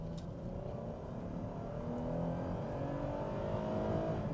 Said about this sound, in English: You can hear the V6 purring.